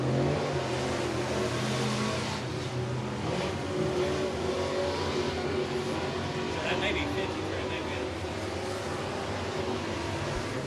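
Street stock race cars roar around the track at Whynot Motorsports Park during the Street Stock Nationals, a steady, dense engine drone. A commentator talks continuously over it.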